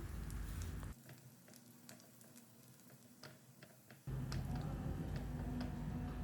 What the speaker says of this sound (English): on medium to high flame we will saute the garlic until they are fried well and turn deep golden brown